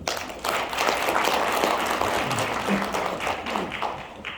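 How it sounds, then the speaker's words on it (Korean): Audience applause at a lecture during a 2022 Gyeongbuk association workshop for visually impaired people, steady, moderately loud clapping from a room full of listeners that holds for about four seconds. "박수 한번 주죠."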